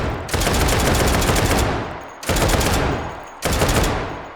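The AR-3 machine gun in the VR shooter H3VR fires three long, loud bursts of rapid automatic shots, each lasting a second or more, with brief pauses between them and no talking.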